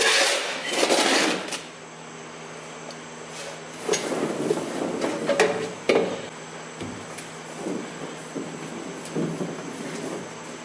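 Sand being rammed into the drag side of a casting flask for an iron griddle, giving repeated dull thumps and scrapes in bursts, fairly close, with quieter gaps between.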